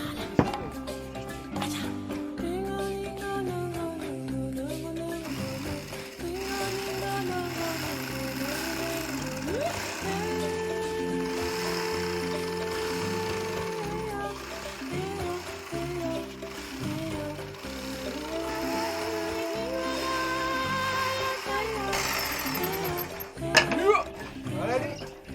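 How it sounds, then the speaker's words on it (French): A jigsaw cuts through wood to finish a hole for a homemade musical instrument, a continuous buzzing, rattling mechanical drone with a steady pitch that runs throughout, close and loud. "Donc, la scie sauteuse."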